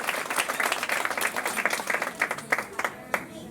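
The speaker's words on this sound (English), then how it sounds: "Give him a round of applause for helping out." An audience gives a short burst of applause that starts dense and then thins into scattered claps as it fades, with some voices mixed in.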